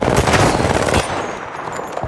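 Rapid video-game gunfire rattles loud and dense for about a second, then gives way to a softer crackle and hum.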